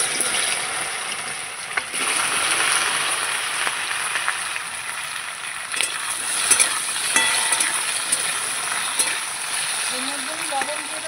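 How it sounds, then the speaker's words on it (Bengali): Taro pieces fry in hot oil with spices, giving a steady close sizzle and bubbling hiss with scattered small pops and clinks. "এই যে গাঠি কচুটা এবার আমি তেলের মধ্যে দিয়ে দেবো"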